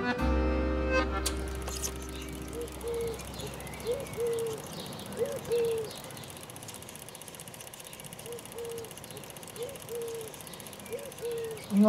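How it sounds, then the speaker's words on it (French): Blackbirds sing in short, repeated fluting phrases at moderate distance over quiet ambient noise, with insects chirring softly behind them and a brief louder sound at the start. "T'entends les merles?"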